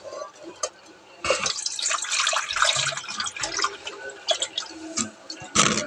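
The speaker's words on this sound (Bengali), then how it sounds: "তো চলুন কিছুটা জল ভরে নিই।" Tap water runs and splashes into small plastic bottles as they are filled at a sink, with irregular gushing and dripping bursts close by.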